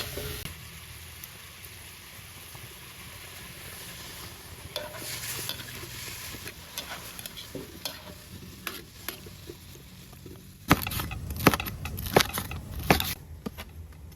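Squash (kalabasa) sautés in a pan for kare-kare, a continuous hiss of frying that grows louder later as several sharp scraping stirs cut through.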